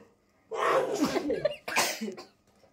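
A single person sneezes forcefully and close up, a sharp burst followed by a second shorter explosive exhale, with quiet surroundings before and after.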